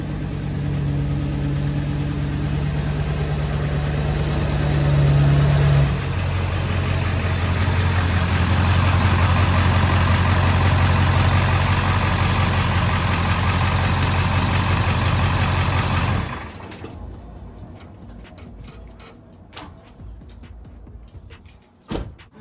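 A Ford 7.3 Powerstroke diesel truck engine with its stock turbo runs steadily and loud, revving through two tones, then drops off into a quieter idle with scattered clicks and knocks.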